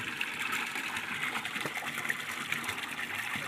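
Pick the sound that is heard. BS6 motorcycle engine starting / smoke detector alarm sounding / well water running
well water running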